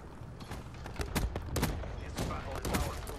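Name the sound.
gunshots in a video game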